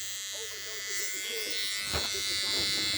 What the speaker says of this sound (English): this little Quilt-A-Day electric seam ripper. You turn it on.